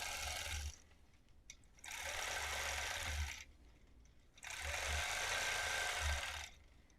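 A longarm quilting machine on a frame with a front rail stitches a crosshatch pattern, whirring in three sustained bursts separated by short quiet gaps, close and fairly loud, with no talking.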